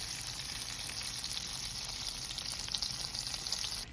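Unsalted butter melting into oil over medium heat in a pot for a Louisiana shrimp boil, giving a steady, fairly quiet hiss and crackle that runs unbroken and then cuts off near the end.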